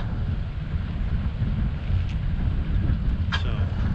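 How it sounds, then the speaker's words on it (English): Steady wind rushes and buffets the microphone without a break, a dense low roar with a faint higher sound near the end. "Really windy. Made it hard to fish."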